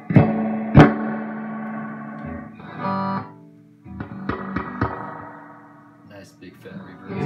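An electric guitar plays chords and single plucked notes through a 1966 Fender Super Reverb amp, each note trailing off in a long, washy reverb tail.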